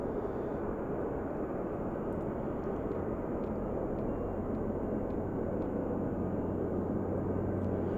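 UPS cargo jet engines spool up at Anchorage airport in freezing weather as a steady, low, distant roar that holds evenly for about eight seconds, with faint ticks on top and no voices.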